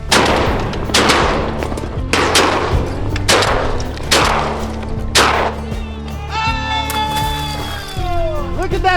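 Five loud, booming shotgun shots fired in quick succession while duck hunting on big open water, followed by excited shouting and whooping voices.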